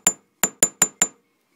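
A hammer taps a pink metal earring to add divot marks, with five sharp, close, ringing strikes: one, a pause, then four in quick, even succession.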